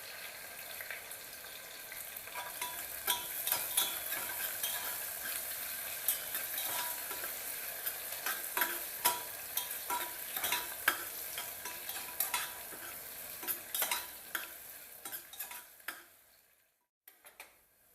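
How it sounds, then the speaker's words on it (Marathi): Chopped onion sautéing and browning in a pan for chicken pulao, a steady sizzle with frequent stirring scrapes and clinks, close and fairly loud for about sixteen seconds before cutting off. "कांदा चांगला ब्राऊन होईपर्यंत आपण परतून घ्यायचं आहे"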